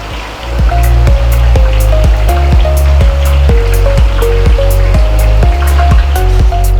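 Veg keema balls deep-frying in hot oil give a loud, continuous sizzling hiss that runs throughout, with a melodic tune playing over it.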